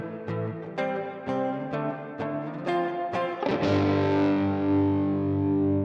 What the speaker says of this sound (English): I had to come up like with some sort of slightly distorted guitar tone